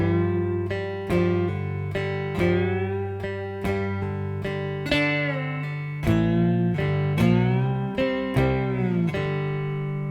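A cigar box guitar plays a beginner pentatonic blues riff, a string of plucked and strummed notes and chords in a steady rhythm, ringing clearly and close with no talking.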